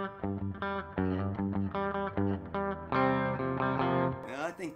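A Fender Professional II Telecaster electric guitar with the middle pickup and series push switch pulled out plays distorted, effected chord strums in a steady rhythm, ending with a brief scrape.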